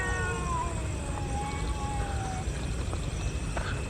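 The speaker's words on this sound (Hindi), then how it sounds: "बिल्ली के रोने की आवाज़ आ रही है इस तरफ से।" A cat crying in a jungle during rainy weather, drawn-out wavering meows rising and falling a few times over steady background noise, fairly distant and thin, no talk.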